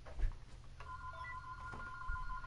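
An electronic telephone ring sounds as a sustained tone over low room hum, starting partway in and continuing steadily to the end, fairly faint.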